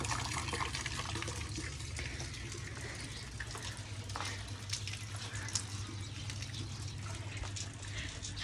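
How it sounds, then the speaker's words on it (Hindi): Water runs steadily from an opened tap in a village mud house, a continuous faint splashing and trickling stream that lasts throughout with no talk. "ये टूटी भी चला दूँ, कुछ इधर पानी चले जाएगा"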